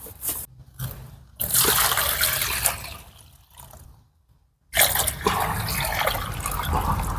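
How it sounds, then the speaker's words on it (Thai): Water mixed with coffee grounds is poured over chili plants, a close splashing trickle that runs in long stretches with a short quiet gap between pours. "ผสมน้ำแล้วก็รดราดนะครับ"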